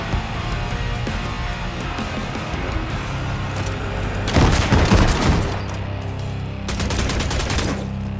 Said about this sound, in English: I heard some shots here,